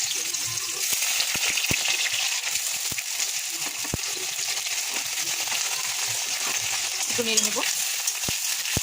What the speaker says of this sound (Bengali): এখন আমি কেটে রাখা আলুটা ভেজে নিব।